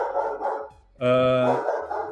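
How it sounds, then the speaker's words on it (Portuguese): A dog barks in the background, one short bark rising above ongoing conversation, with people talking before and after it. "tá latindo ali, não sei se dá pra ouvir."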